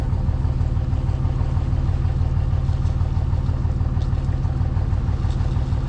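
A 24V Cummins diesel engine idles steadily, a dense low rumble close by that holds constant throughout with no speech.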